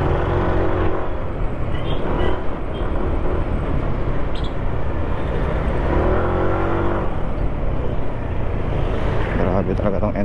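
A Yamaha NMAX scooter engine revs and drones steadily under street noise and nearby talk, loud and continuous throughout.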